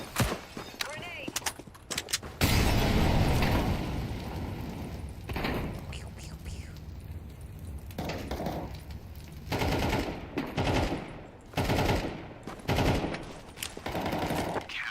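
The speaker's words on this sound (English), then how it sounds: "Grenade." Grenade blast and rapid gunfire in a shooter video game, a loud burst around two seconds followed by repeated bursts of shots, with a player talking over the action.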